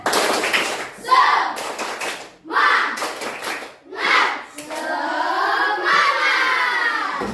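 Indonesian primary classroom children perform a rhythmic spirit clap together, bursts of clapping and shouted chanting in several loud rounds, ending in sustained group shouting.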